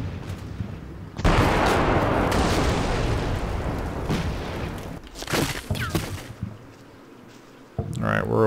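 Sustained battlefield gunfire in the Combat Mission Black Sea war game, a dense wash of shots and distant booms filling most of the stretch, fading briefly before a final loud burst near the end.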